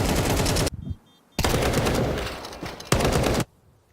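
Gunfire from a Counter-Strike match at a professional esports event, with a likely MP9 submachine gun: three dense bursts of rapid automatic fire, loud and close, separated by brief pauses, with no talk.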